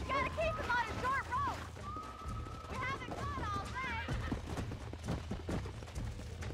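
A horse in Red Dead Redemption clip-clops and gives whinnying neighs, with hoofbeats running steadily throughout while someone talks over them.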